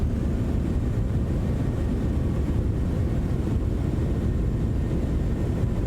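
A Citation X business jet in a flight simulator rolls out after landing with thrust reversers deployed, a loud, dense, unbroken roar of engine and wind noise holding steady throughout.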